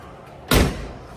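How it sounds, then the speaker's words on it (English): The door of a 1968 Ford Mustang under restoration is slammed shut once, a single close, heavy thud with a short ringing decay and no talking. "Look at this door. It won't close all the way. You gotta slam it,"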